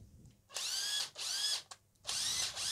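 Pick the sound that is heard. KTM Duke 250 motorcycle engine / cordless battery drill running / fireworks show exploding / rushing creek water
cordless battery drill running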